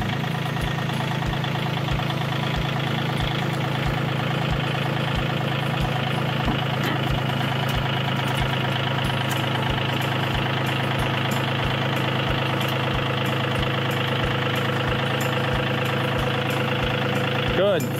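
A tractor engine idles steadily throughout, a continuous low rumble with a faint rhythmic knock, heard up close in a garden setting while the front of the tractor is lifted.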